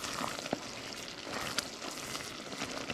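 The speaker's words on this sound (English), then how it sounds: "I'm just going to continue with my stirring. Just gently stirring." Hot praline candy mixture bubbling and sizzling in a pot while being gently stirred, a steady soft frying hiss with occasional faint scrapes, close and quiet, with no voices.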